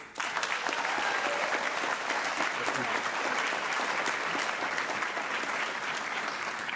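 Audience applause at the Pendleton Rhinos Black & Gold Gala, a high school event honoring students. Dense, even clapping from a large crowd sustains at full strength for the whole stretch, with a faint voice under it.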